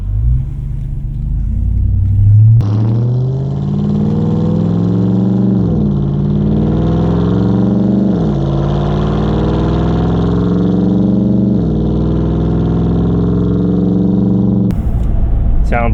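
A Ram TRX pickup in sport mode with traction control off accelerates hard, its deep engine rumble rising and shifting through gears for about twelve seconds, close and loud throughout.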